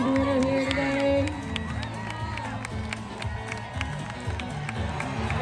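A crowd at a Minnesota State Fair timber sports event cheers and shouts loudly, a sustained mass of voices with whoops at the start that settles into ongoing busy crowd noise and rhythmic knocks.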